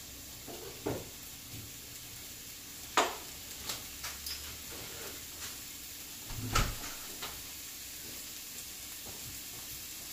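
A door bumps shut with a couple of thuds and clicks, amid scattered light knocks and a faint sizzling in the background.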